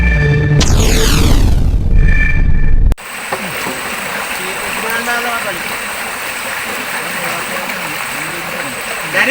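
Strong water current rushing down into a kimpot fish and crab trap, heard as steady broadband flowing and gurgling after a brief burst of tonal voice or music at the start, with talk over the water.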